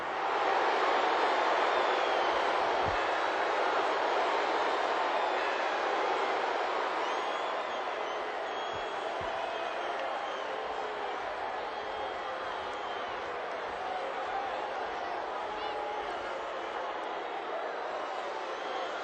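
A wrestling arena crowd at a 1987 WWF event reacts to Andre the Giant with a dense, steady roar of mixed voices and scattered whoops, filling the space continuously.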